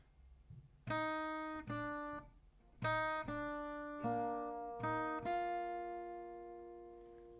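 Plucked acoustic guitar notes and paired dyads playing a part of a song, each note ringing and decaying in a slow, deliberate phrase, close and clear with no voice.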